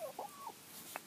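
A chicken clucks softly in a few short, close, throaty notes, then gives one brief higher peep, all faint against a quiet background.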